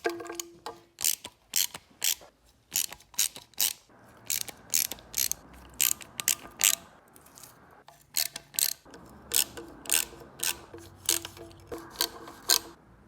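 A hand ratchet loosens timing cover bolts on a small-block Chevy 350 engine during a rebuild, sounding as rapid bursts of sharp clicking strokes repeated in steady rhythm throughout, close and crisp, with faint scraping between bursts.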